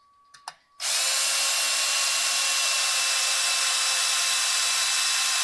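A power drill is used to tighten the base of a bench vise, starting after a few clicks and then whirring loudly and steadily without a break.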